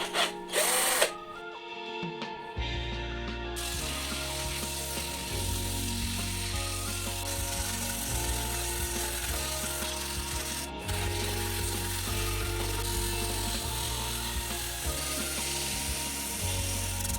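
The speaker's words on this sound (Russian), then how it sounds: "К сожалению, шуруповерт в самые углы не достает, поэтому нужно будет еще вручную наждачкой тоже по углам хорошо пройтись." Cordless drill with a sanding attachment working over old Soviet-era wooden furniture in a workshop, a steady whirring grind with rubbing scrape, stopping and restarting in repeated bursts.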